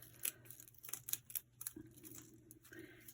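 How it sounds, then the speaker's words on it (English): Small snippers cut a wool applique piece in a quiet room, several faint, sharp snips and crisp fabric rustles coming close together, with no one speaking. "So I'll just use my snippers and we'll cut that off."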